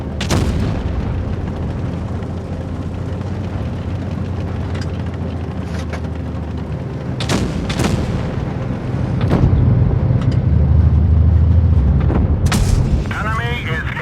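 Tank cannon shots and shell hits in World of Tanks Blitz, with several sharp booms spread across a rumbling battle backdrop of engines and effects, under occasional game announcer voice.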